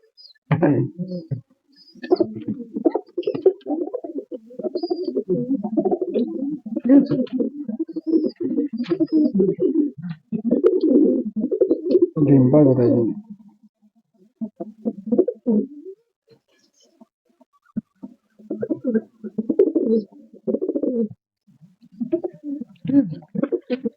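Giribaz and Madras pigeons coo in repeated low throaty bursts, close and fairly loud, with short gaps and a longer pause near the middle.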